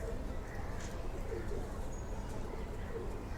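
A pair of pigeons coos on a rooftop, the faint throaty calls partly buried in a constant wash of background noise, with no one speaking.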